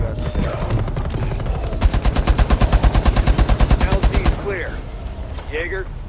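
Loud, close automatic gunfire in Rainbow Six Siege rattles off in a long rapid burst of evenly spaced shots, preceded by scattered game noise and followed by voices speaking.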